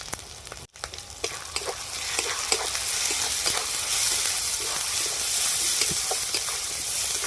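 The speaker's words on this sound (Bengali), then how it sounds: "সমস্ত মশলা আমার ভাজা হয়ে গেছে" Spices with ginger paste, green chili, salt, turmeric and chili powder frying in a pan for a goat meat curry, a steady close sizzle with occasional stirring scrapes and pops.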